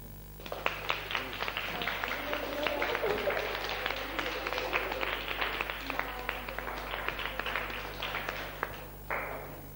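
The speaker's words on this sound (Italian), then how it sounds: "Facciamo un applauso." Audience applause at a televised Italian group performance, a dense run of claps building and holding before cutting off near the end, with faint voices mixed underneath.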